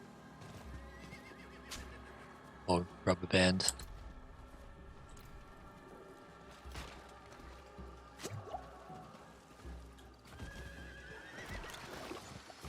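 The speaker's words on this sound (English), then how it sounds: "My horse likes to slow down just as it gets to somewhere dangerous." A mounted horse in Diablo 4 trots with clip-clop hooves, a sharp burst of whinnying around the middle, scattered squishy clicks and drips from the game world, and someone speaking briefly over it.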